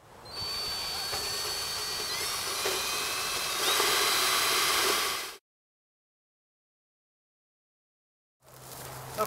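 A power drill drives screws with fender washers while installing a repeater excluder trap. It gives a steady, loud whine for about five seconds, cuts to silence, then starts again briefly.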